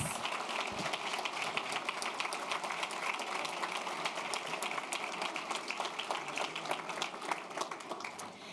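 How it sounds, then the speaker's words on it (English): A final round of applause for the district's Teachers of the Year rolls on at an awards announcement, a fairly quiet, distant-sounding patter of many hands clapping steadily for several seconds. "Let's give all of our Teachers of the Year a final round of applause."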